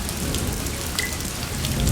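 Heavy rain pours down steadily in Wayanad, Kerala, drumming hard on surfaces with a dense, continuous hiss and no break.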